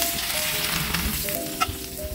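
Steady sizzling and crackling of hot spice tempering oil poured over cooked chickpeas, continuous frying hiss with a couple of brief clinks near the end.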